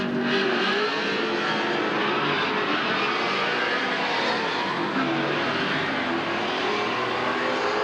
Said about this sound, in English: Cullen certainly justified his pole position by that start